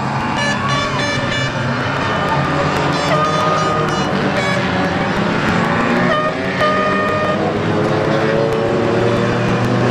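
At an Easter Monday caravan race at Arena Essex, a loud, continuous roar of racing car engines fills the air, with rising and falling engine tones layered over each other.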